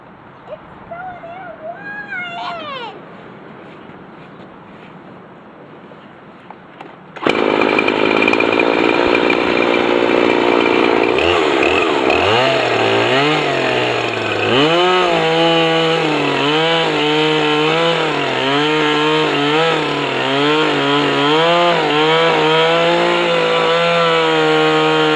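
Poulan Pro chainsaw, a homemade mill setup nearby, starts after several seconds of quieter sound, then runs loud and close, its engine pitch rising and falling as the throttle is revved repeatedly.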